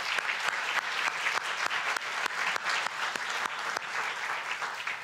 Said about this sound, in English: So a round of applause to all of them